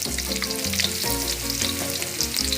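Onions fry in a pan for creamy chicken pastel, giving a loud, continuous close-up sizzle with stirring, no voices heard.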